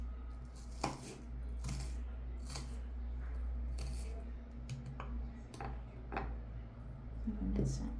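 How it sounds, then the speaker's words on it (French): Knife chopping a small piece of vegetable for a fresh green salad on a board: a series of sharp, irregular close cuts and taps, fairly quiet, with soft kitchen handling noises between them. "je vais la couper un petit morceau quand même"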